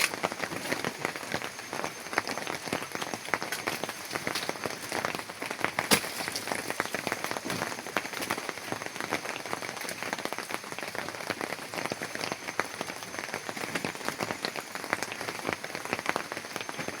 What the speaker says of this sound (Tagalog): Ulan na naman mga ka-idol.